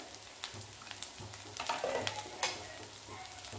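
Spice paste roasting on low heat with asafoetida and curry leaves in a pan of oil, for a spicy vegetable dish: a soft, steady sizzle with faint stirring scrapes, close and quiet, with no talk.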